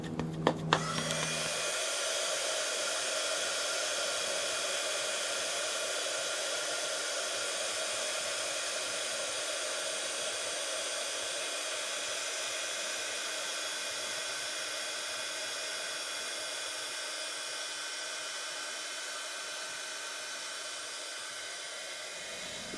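An embossing heat tool runs steadily and loudly for over twenty seconds, melting embossing powder on a card panel in a papercraft session; a continuous blowing whoosh with a faint whine, no talking.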